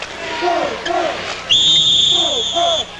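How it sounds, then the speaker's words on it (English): A referee's whistle at a 1979-80 NCAA college basketball game between Kentucky and Notre Dame shrills once, long and steady for over a second, over the noise of a shouting arena crowd. "Whistle sounds."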